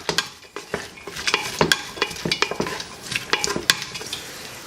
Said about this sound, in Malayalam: അതോടൊപ്പം തന്നെ ഒരു 2 പച്ചമുളകും ചെറുതായിട്ടൊന്ന് വഴറ്റിയെടുക്കാം